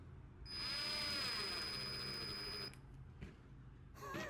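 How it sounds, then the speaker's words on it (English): A power drill boring into wood whines steadily for about two seconds, high and close, then stops, followed by brief clatter and a short restart. "so you don't drill into the table"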